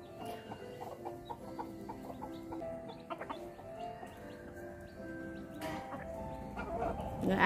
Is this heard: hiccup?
no